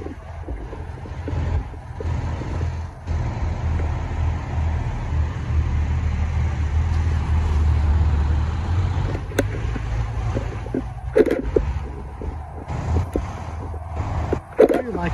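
A convoy of Porsche GT3 and Turbo cars arrives at a Porsche-only cars and coffee meet, engines rumbling low and steady as they roll in, with wind buffeting the microphone and a few sharp clicks.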